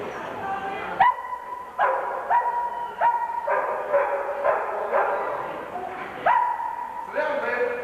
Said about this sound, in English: I've got the young dog to show you.